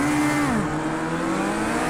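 A Ford GT race car in the video game Project Cars 2 roars past at close range, loud engine howl dropping in pitch as it passes, then a sustained engine drone with no talk.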